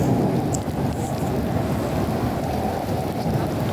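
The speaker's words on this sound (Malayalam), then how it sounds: "ഇടിയും നല്ല മഴയും" Heavy rain pours down steadily and loudly at the Prophet's Mosque in Madinah, with a deep rumble of thunder underneath throughout.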